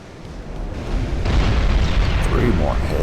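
Secondary explosions aboard a warship in the naval battle game Ultimate Admiral: Dreadnoughts build into a loud, sustained rumbling roar of deep booms.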